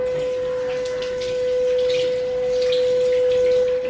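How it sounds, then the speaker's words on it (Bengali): A watermelon set to soak in water, heard as a steady rush of running water with a constant tonal hum, close and even throughout. "তরমুজটাকে এখন আমি ভিজিয়ে রাখছি"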